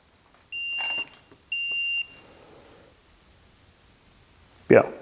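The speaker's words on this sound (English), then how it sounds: "that was our alarm to say, hey, we're outside that 4-degree range where we can self-level" A Dovoh P4-360G laser level sounds its out-of-level alarm when tilted beyond its 4-degree self-leveling range: two sustained, high electronic beeps in quick succession, followed later by a short vocal sound.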